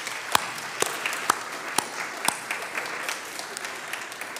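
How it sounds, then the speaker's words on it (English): Light, thin applause from an audience at a nursing school's 30th anniversary celebration, a few distinct claps popping out early before settling into a soft, steady patter that gradually fades. "if we all give them a, a round of applause"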